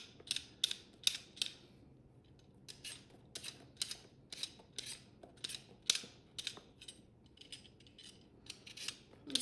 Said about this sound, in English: It's really a good veggie peeler.